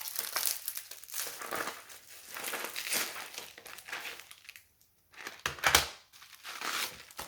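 Bubble wrap packaging being pulled open and unwrapped from a diamond painting kit order, giving close, loud crinkling and rustling in uneven bursts with a brief pause, and no talking.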